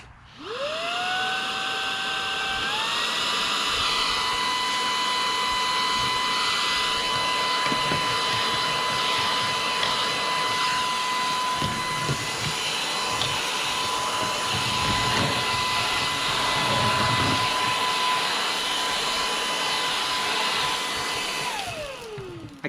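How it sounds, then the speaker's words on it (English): A MOOSOO cordless brushless handheld cyclone vacuum cleaner whirs up, steps from low to high power, then holds a steady high-pitched whine with rattling debris noises before spinning down at the end. "then press it again for high vacuum."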